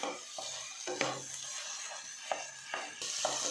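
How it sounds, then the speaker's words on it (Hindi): Chopped cauliflower, carrot, beans, capsicum and grated potato sauté in a pan for pav bhaji, a steady close sizzle broken by repeated scraping stirs of a spoon against the pan in a loose rhythm. "आलू को मैं कद्दूकस करके डाल लिया और मैं इसके साथ भून लूंगी।"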